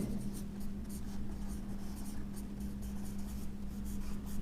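A pen scratches across paper as math is worked out by hand, with a quick run of short rhythmic strokes over a constant low electrical hum.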